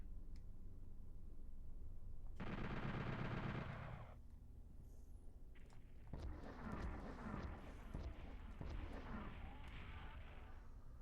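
Rapid gunfire from enemy gunners in the PlayStation game Final Doom, a dense burst of chattering shots followed by more scattered shots and blasts in a loud, busy mix.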